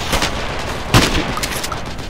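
Gunfire in the military shooter Project Reality during a city-district battle: a few distant shots and a single sharper crack over steady background battle noise.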